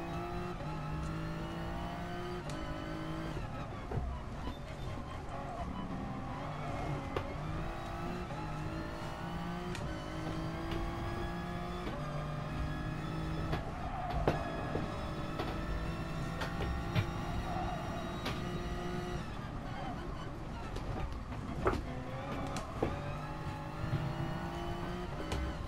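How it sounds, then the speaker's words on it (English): A Toyota GR Supra Racing Concept engine in GT Sport on the Nordschleife roars steadily throughout, revving hard and shifting through gears on a hot lap, loud and continuous with no voices. "I'm in the GR Supra racing concept"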